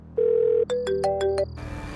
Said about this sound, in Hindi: फोन क्यों नहीं उठा रहा?